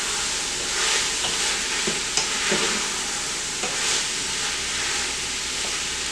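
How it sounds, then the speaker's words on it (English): Sausage browns in a pan for red beans and rice, a loud close sizzle with a few scraping, tossing knocks and clinks scattered through the steady frying. "You just want to brown your sausage up a little bit."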